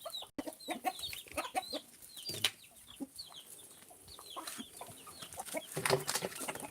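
Several chickens cluck and chatter nearby in a busy, overlapping flurry of short calls, with no talking.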